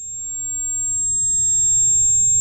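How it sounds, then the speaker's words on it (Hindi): Tinnitus-style ringing in the ears, rendered as a thin, steady high-pitched tone that holds unbroken throughout over a quiet low rumble, with no voices. "तो देखो, इसे टिनाइटस बोलते हैं।"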